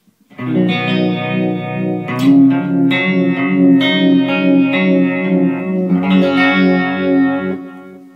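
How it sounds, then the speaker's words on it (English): An electric guitar plays sustained, distorted chords through an Electro-Harmonix Small Stone phaser with a sweeping swirl, trailing delay echoes and reverb, loud and up close. "it really shines if you add some, whoopsie, some delay and some reverb to it"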